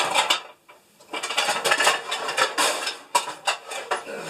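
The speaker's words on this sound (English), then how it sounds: "sorry for the noise, grab the biggest frying pan" Metal pots and pans clatter and clank repeatedly in a kitchen as the biggest frying pan is pulled out, close and loud, with brief pauses between bursts of banging.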